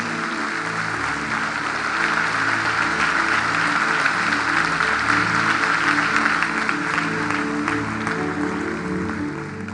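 A church congregation applauds steadily for several seconds, a dense wash of clapping over low sustained music.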